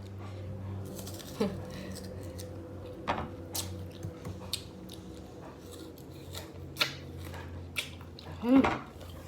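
Someone bites into and chews a mango up close, producing scattered crisp bite and wet squishy chewing sounds over quiet background.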